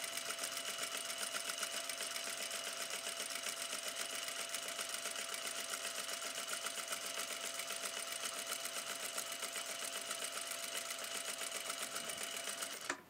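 A sewing machine runs continuously during a stitching practice exercise, its fast, even mechanical whir and needle ticking steady and close throughout, with no talking.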